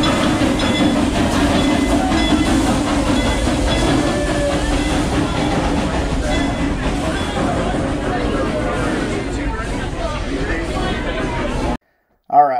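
The Frisco Silver Dollar Line train pulls in at Silver Dollar City in Branson, Missouri, during the Christmas season. Its steady, loud rolling rumble and rattle carries on for about twelve seconds, with crowd chatter mixed underneath before it cuts off.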